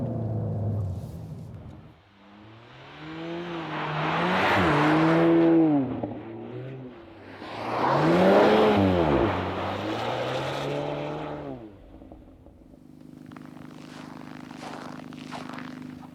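A VW T-Roc R drifts sideways on ice, its engine surging and falling in two long, loud revving swells, then settling into a steadier, quieter drone.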